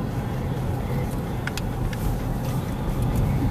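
Car driving along a curvy mountain road on the way to a grocery store, a steady broadband rumble of engine and road noise with faint higher tones, continuous and close throughout.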